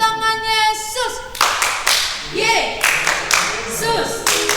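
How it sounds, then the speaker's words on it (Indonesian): Children at a Sunday school service clap their hands in rhythmic bursts, loud and close, alternating with group chanting and an adult leader's voice. "Kayaknya tepuk tangannya kedengaran loh sampai ke sini."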